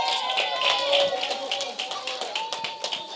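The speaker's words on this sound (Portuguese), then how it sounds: "Aplauda o Senhor Jesus pela vida da Luara." A church congregation at a youth preaching service applauds, a steady patter of many hands clapping at moderate volume, with voices mixed in underneath.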